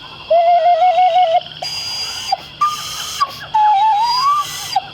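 A series of shrill, warbling whistle calls, loud and close, in several bursts with short pauses between them.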